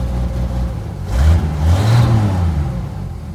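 A 1978 Toyota Land Cruiser FJ40 engine, cold-started on a little choke, revs up twice in quick succession, rising and falling close by with a rough, throaty drone and no talking.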